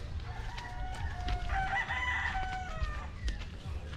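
Chickens cluck and a rooster crows across a poultry range, several overlapping calls rising over a busy farmyard background, fairly close and steady for the whole stretch.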